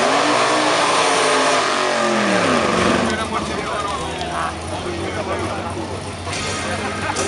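A Chevrolet Camaro drag car with a nitrous-boosted 5.7 litre engine, at a drag racing event, revs loud and close in the opening seconds, then settles into a rough idle under a commentator's voice and crowd noise.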